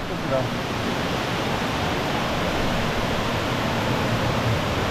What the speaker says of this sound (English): Oh, there are waterfalls.